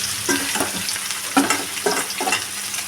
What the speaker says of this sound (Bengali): এবার মাছগুলো আমি দিয়ে দেবো এক এক করে দিয়ে আমি ভেজে নেব